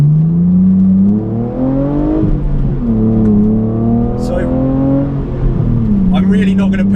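A BMW Z4 on a race track accelerates through the gears, its engine tone rising and then dropping at each shift. The engine is loud and sounds close, as if heard from inside the car, with a voice speaking over it.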